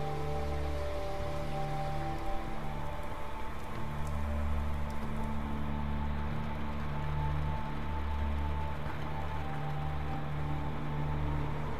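Steady rainfall in Resident Evil 2, an even hiss of drops on surfaces with a low ambient hum beneath, continuous and moderately quiet throughout.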